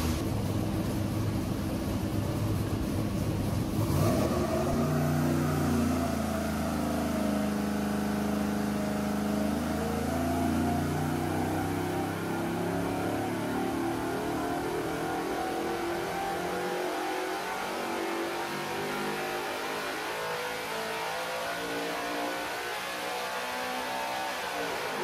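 A junkyard 5.3L LS V8 fitted with a Holley low ram intake revs hard, its pitch sweeping upward in a sustained loud wail that holds near the top before easing, with no talk.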